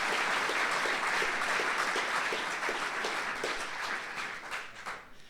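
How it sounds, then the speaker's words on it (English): Audience at a Palmerston North mayoral debate applauding to welcome the two candidates, a dense, steady round of clapping from a crowd that holds for several seconds before thinning out. "I'd ask you to welcome both Mr. Naylor and Mr. Bell-Booth with a warm round of applause"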